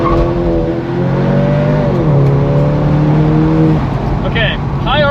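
A Volkswagen Jetta GLI with a Unitronic Stage 1+ tune revs hard on a dyno while its tires spin, engine pitch rising and shifting in a loud steady whir, with people talking nearby.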